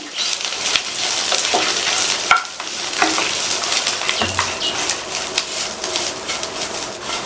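Curry leaves sizzling and sautéing in hot oil in a pan, a steady crackling fry with occasional stirring scrapes, close and fairly loud.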